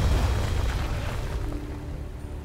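Deep rumbling boom of an explosion in the video game King's Quest, already under way, its low roar slowly fading over a couple of seconds.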